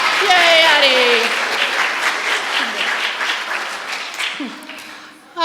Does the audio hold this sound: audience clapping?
yes